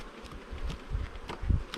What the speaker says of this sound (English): There's a lot of drones here, a lot of bees, I can't see the queen.